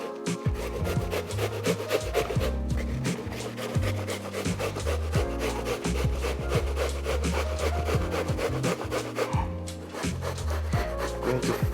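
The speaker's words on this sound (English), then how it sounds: "Going to finish up the grating." Onion being grated on the small side of a grater, rapid continuous rasping strokes close by, with music playing underneath throughout.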